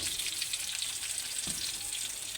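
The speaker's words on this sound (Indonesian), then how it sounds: "Goreng tahune sampai setengah mateng." Tofu frying in hot oil in a pan, a steady bright crackling sizzle heard up close with one faint knock partway through.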